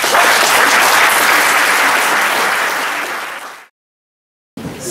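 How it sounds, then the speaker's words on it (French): Audience applause fills a Yahrzeit memorial ceremony hall, a loud dense wash of many hands that fades out near the end, breaks into a brief silence, then picks up again. "Je vous demande de les applaudir."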